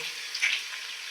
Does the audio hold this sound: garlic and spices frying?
yes